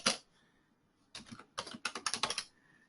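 Computer keyboard typing, close and clear: a single press, a pause, then a quick run of crisp key clicks in two bursts.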